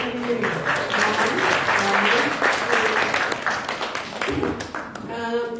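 Applause for a team at a community fintech and crypto meetup, a dense steady clapping from a crowd that swells, dips briefly near the end, then rises again, with a few voices and cheers mixed in.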